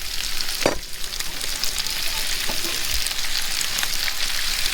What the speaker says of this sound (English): The onions have been cooking.